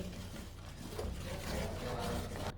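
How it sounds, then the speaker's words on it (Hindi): A spoon scrapes and stirs a jaggery mixture in a very hot kadhai while making panjiri, giving a steady, continuous rubbing scrape at close range with no talking. "कढ़ाई ही बहुत ही गर्म है, इसलिए ऐसे ही 1 मिनट तक चम्मच चला लेंगे।"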